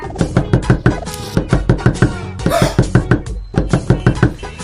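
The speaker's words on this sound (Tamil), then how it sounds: "இந்த நேரத்துல வந்து யார் கதவு தட்டுறா" Rapid, steady knocking on a door repeats in an even, insistent rhythm, loud and close throughout, in a miniature comedy skit.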